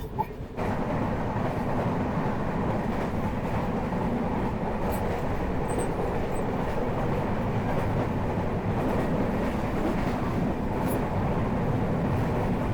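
Janshatabdi Express train running on Indian rails between Mumbai and Hingoli, a steady loud rumble of wheels and carriage noise with faint clicks throughout, close and continuous, no voices.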